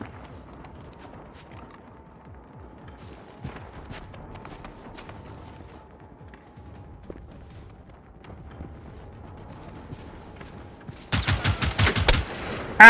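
Hostile robots fire guns in the video game Generation Zero: a long quiet stretch, then a loud, rapid burst of gunfire near the end, with no talking.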